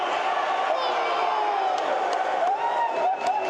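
A packed college basketball gym crowd roaring and cheering at a Cochise College versus Arizona Western playoff game, a loud sustained wash of voices with whoops and scattered sharp bangs.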